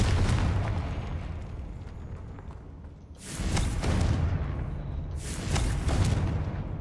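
Confringo blasting spell detonating in Hogwarts Legacy, two loud bursts a couple of seconds apart, each a sharp broadband boom with a rumbling tail, over a constant low game-ambience roar.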